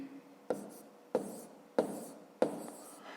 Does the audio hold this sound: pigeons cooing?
no